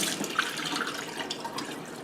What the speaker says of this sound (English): Turn on the water high, and then I'm going to be pushing this right along the edge here.